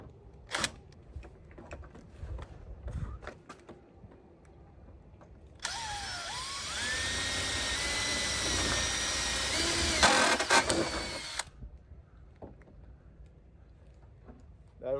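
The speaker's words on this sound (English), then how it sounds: "So hold it up, drill your 1/8 inch hole." A drill bores a 1/8 inch hole through a Husky wheel well guard on a 2011–2016 Ford F-250, a sustained whine of about six seconds that rises in pitch, framed by scattered handling clatter before and after.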